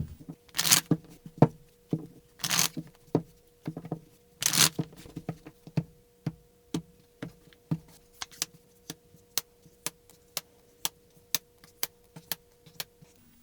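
Stiff tarot cards riffle and snap through several bursts of shuffling, followed by a long run of evenly spaced sharp taps, close and fairly quiet.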